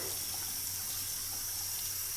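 Water pours from a tap in a continuous, even hiss, fairly quiet and unbroken from start to finish, with no one speaking.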